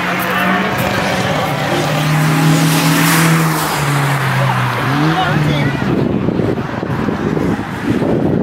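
Exotic sports car engine, an R8-type engine, passing on the front straight of the Mosport race track during a track day, rising and falling pitch with wind noise, loud and close.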